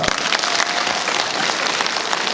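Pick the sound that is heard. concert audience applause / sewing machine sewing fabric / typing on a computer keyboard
concert audience applause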